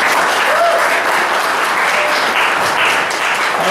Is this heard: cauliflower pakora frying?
no